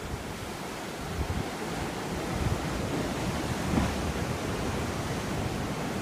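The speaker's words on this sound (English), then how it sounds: "Beautiful waves." Ocean waves roll in at a seaside resort, a continuous wash of surf with gentle swells and some wind buffeting, moderately loud and steady, with no voices.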